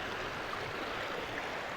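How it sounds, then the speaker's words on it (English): Steady river water flowing at a knee-deep crossing in Dinosaur Valley State Park, a soft continuous rushing heard close and alone. "the river crossing, like what Caden and I did a couple weeks ago, is about not quite knee deep"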